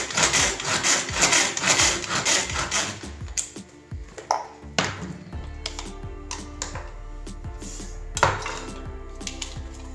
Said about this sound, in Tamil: இதே மாதிரி தக்காளியையும் நறுக்கி கொள்ள வேண்டும் வெஜிடபிள் சாப்பர்ஸில்